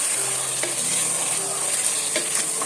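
Cinnamon and black cardamom fry in hot oil for a mutton curry, giving a steady, close sizzle with a few light stirring scrapes throughout and no talking.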